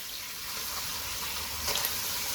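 Fish frying in hot oil over high heat gives a steady, dense sizzle that stays close and even throughout, with no voices.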